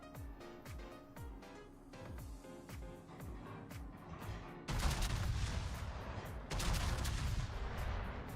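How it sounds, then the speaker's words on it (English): Heavy naval gun salvos from warships in World of Warships, a series of deep booming reports repeating in quick rhythm, then a louder, denser barrage of blasts rumbling close and dominant, with no talk. "Aimed a little bit too low that first salvo. Second salvo was better."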